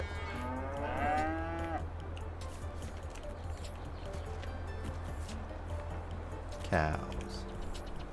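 Cattle mooing in the Farming Simulator 22 video game on the Elm Creek farm map, a drawn-out low moo near the start and a second shorter one later, over a steady low ambient game hum.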